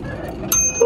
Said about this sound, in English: Press your bell, baby. Press it.